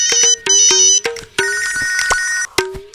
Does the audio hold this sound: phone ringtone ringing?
yes